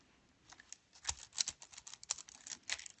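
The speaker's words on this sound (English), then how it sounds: "Use your the same cutter as your cookie and cut that out." A cookie cutter presses through rolled fondant for Halloween mummy cookies, making a dense run of small, close crisp clicks and scrapes lasting a few seconds.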